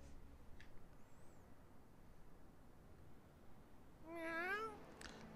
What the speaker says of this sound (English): Oh, I heard that. Where's the cat?